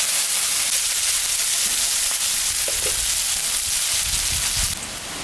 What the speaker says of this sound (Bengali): আমি এখন মাছ ভাজা তেলের উপরে জিরা, শুকনো লঙ্কা, তেজপাতা, সম্বরা দিয়ে দেব। কাটা পেঁয়াজটা দিয়ে দেব।